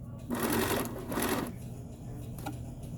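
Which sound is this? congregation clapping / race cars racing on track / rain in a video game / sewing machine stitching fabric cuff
sewing machine stitching fabric cuff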